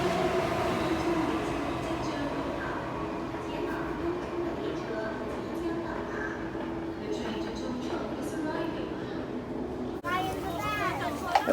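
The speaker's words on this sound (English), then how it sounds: "Here comes our A train." A passenger train rumbles steadily into busy Sunny Bay Station, its low roar and rattling carriages filling the space while a crowd murmurs and children chatter nearby.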